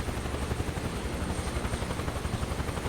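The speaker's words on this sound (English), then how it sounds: "The helicopter's actually kind of doing its own thing here." A Huey helicopter in Microsoft Flight Simulator 2024, climbing Mount Kilimanjaro, gives a loud, steady rotor drone with an even, rapid blade thump throughout, heard alone without talk.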